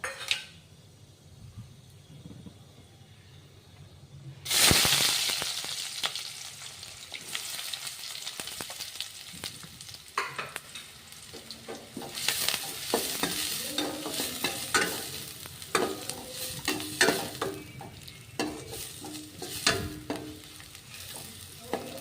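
Onion frying in a pan with cinnamon and cloves, a loud sizzle bursting in partway through and then crackling steadily with stirring scrapes and occasional clinks, no talking.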